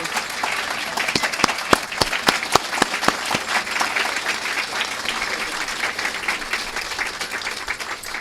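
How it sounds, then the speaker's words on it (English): An audience at a dedication and ribbon-cutting ceremony gives a round of applause, steady dense clapping with a few sharp individual claps standing out early on, fading slightly toward the end. "How about another round of applause for Lidia Maldonado?"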